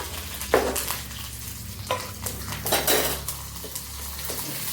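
Mustard seeds, ripe kanthari chillies and curry leaves sizzle in hot oil in a pan, with irregular crackling bursts and occasional metal spoon clinks against the pan over a low steady hiss.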